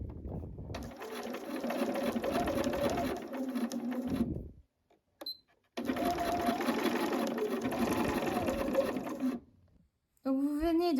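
Sewing machine stitching a seam on a vest, running in two long bursts of steady mechanical whirring separated by a brief pause, with a short backstitch sequence, close and fairly loud.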